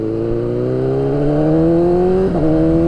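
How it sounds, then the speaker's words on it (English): A motorcycle fitted with newly installed winglets is ridden, its engine droning loud and close with a steadily rising pitch and a brief dip as the gear changes near the end. "We are taking our first ride with the winglets installed on the bike."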